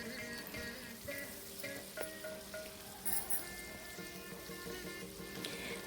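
Pickle ingredients frying in a pan, a steady soft sizzle and crackle running throughout with scattered small pops, fairly quiet and close, no talking.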